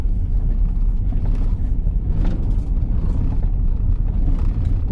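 A car cruises along a country road in Oconee County, Georgia, on a spring afternoon, heard from inside as a steady, close low rumble of engine and tyres with no talk.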